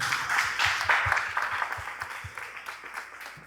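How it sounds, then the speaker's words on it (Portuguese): Applause from a small gathering at a condominium-management event, prompted after thanking a guest. Moderate, scattered clapping begins at once and gradually thins and fades over a few seconds. "Palmas, por favor."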